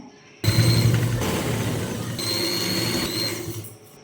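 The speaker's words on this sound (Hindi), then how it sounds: "अब हमने फिटिंग की साइड की सिलाई दोनों साइड से लगा देनी है।" A sewing machine runs steadily for about three seconds, stitching the side seams of a cotton yoke baby frock, with a continuous whirring motor hum that starts abruptly and fades at the end, with no talking.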